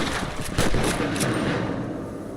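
Rifle shots in Red Dead Redemption, a few sharp reports near the start over a dense, steady wash of game noise, with voices around them.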